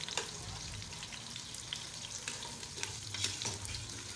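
Potatoes frying in a pan for aloo baingan sabzi, a steady oily sizzle with occasional stirring scrapes and clinks, close and continuous with no voices.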